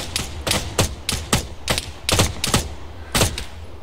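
Gunfire in the video game ArmA 3 cracks out in a rapid sequence of sharp shots, loud and close, with brief irregular pauses between clusters.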